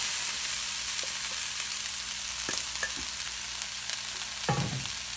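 Sliced onions sizzle steadily in a hot pan over medium heat, a continuous close frying hiss with a few stirring clatters and a louder burst near the end.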